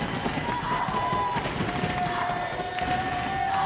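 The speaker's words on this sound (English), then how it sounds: "Hear the crowd urging the Swiss side on" A hockey crowd cheers during a Nations Cup semi-final between Switzerland and Singapore, a steady, dense wash of roaring voices with a whistle-like tone running through it, beneath a commentator's voice.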